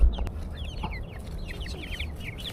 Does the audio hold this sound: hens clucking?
yes